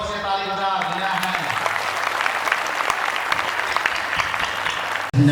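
A church congregation at a diamond jubilee celebration in Kalunga claps loudly for its parish priest. The dense applause is steady and sustained for several seconds, a voice is briefly audible at the start, and it cuts off abruptly near the end.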